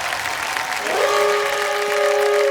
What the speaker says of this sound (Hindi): लिए हम तालियां बजाना चाहें